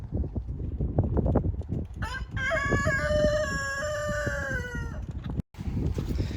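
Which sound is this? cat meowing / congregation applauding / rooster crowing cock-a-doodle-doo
rooster crowing cock-a-doodle-doo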